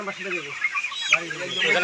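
Several young pullet chickens, about seventy days old, cluck and chatter close by in a short burst at a poultry farm, overlapping calls from a crowded flock.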